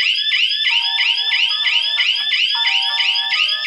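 Shrill, rapidly warbling electronic hooter from a three-phase power failure SMS and call alert unit, sounding continuously and loud up close, with a few faint tonal beeps layered beneath it.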